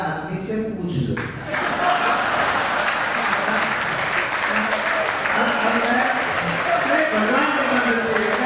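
Audience applause at a comedy poetry show, a dense, steady wash of many hands clapping that carries on throughout, with a voice talking over it near the start and crowd murmur beneath.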